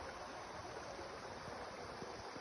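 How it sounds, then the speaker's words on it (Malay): A river flows past its bank in Baringin village on a morning, a soft, steady rush of water that stays faint and even throughout, with no voices. "Ini tepi sungai nih, ini Baringin."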